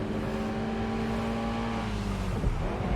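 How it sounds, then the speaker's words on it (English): A car in Watch Dogs Legion throwing fast handbrake turns, a steady engine drone whose pitch sags and then shifts as the car swings around, with a brief scrubbing jolt near the end. "Can really do some fast-moving handbrake turns there"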